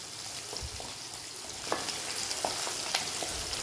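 Chopped onions frying in a pan for broken wheat upma sizzle steadily, a soft continuous crackle with scattered pops and the scrape of occasional stirring.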